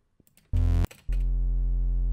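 Detuned triangle-wave synth tone from a Phase Plant neurofunk bass preset: a short burst, a brief gap, then a loud sustained note with strong low fundamentals and soft upper harmonics, heard alone.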